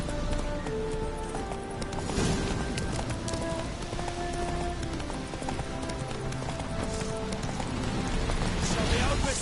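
Rapid hoofbeats of a horse galloping in The Witcher 3: Hearts of Stone, a steady, continuous clip-clop running under outdoor ambience with faint bird chirps and occasional speech.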